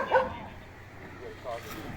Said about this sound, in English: They got a few dogs out there.